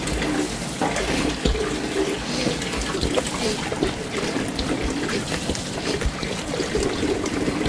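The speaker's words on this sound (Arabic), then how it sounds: "هننزل بالمية حبة حبة على حسب كل واحد والدقيق بتاعه بيشرب قد ايه المية" Water is added a little at a time to kahk dough during hand kneading, making continuous wet splashing and squelching with a steady, close, fairly loud texture.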